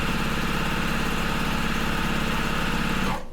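A sewing machine stitching quilt pieces runs in a fast, even mechanical whir, loud and close, then cuts off right at the end.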